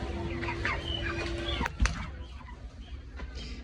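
Broiler chickens raised at home cluck and chatter in an overlapping flock, close and continuous, with a few sharper calls standing out above the steady background murmur.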